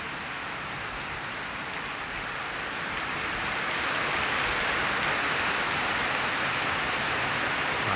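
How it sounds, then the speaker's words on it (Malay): Steady heavy rain at night in Igan, Malaysia hisses continuously, growing a little louder partway through, with no voices. "Hujan malam raya pertama."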